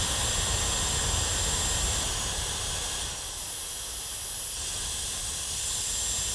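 Dyson Supersonic hair dryer blowing steadily at close range, a continuous broadband rush of air with a faint high whine, easing slightly for a moment midway as the setting changes.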